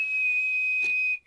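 A man whistles a short tune, a single clear sustained pure tone held almost steadily with a slight pitch drop and a brief break near the end, close and alone.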